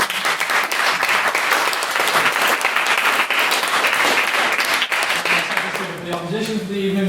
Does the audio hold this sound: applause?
yes